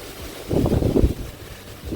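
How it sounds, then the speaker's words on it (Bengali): Gusts of strong, cold stormy wind ahead of Cyclone Remal buffet the microphone outdoors by a house with a mango tree, two heavy low rumbling bursts rising over a quieter windy hiss. "এমন ঝড়ে হাওয়া দিচ্ছে"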